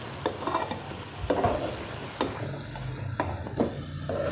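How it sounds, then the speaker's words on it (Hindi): Stuffed eggplant frying with tomato masala in a pan, a steady close sizzle broken by several scraping stir strokes at irregular intervals, with no voices. "ये देखिए हम टमाटर वालों मसालों के साथ बैंगन को अच्छी तरह से आपने भूनना है।"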